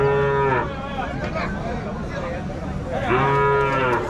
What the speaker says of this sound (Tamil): இதுவும் கிடாரி கன்று தான்.